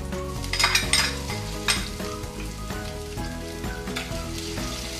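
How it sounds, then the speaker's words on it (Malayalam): Crushed shallots fry in a pan for a Kerala-style fish curry, a close sizzle broken by repeated metal scrapes and clinks of the spoon stirring, with music playing underneath. "ഇനി നമുക്ക് ഇതിലേക്ക് ചതച്ചുള്ളി ചേർത്ത് കൊടുക്കാം."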